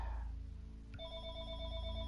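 A phone rings with a steady electronic tone that repeats in quick pulses, starting abruptly partway through over a low background hum and music.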